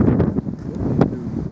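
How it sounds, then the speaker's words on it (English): Strong wind buffets and rumbles right beside the medieval Muckross Abbey in Killarney National Park, loud and gusty, with rustling and occasional louder blasts, no speech. "Very windy on the side of the Abbey."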